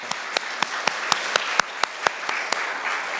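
A church congregation claps together after a children's ministry report at a Sunday service, with several louder, sharp claps standing out rhythmically over a steady wash of applause filling the room.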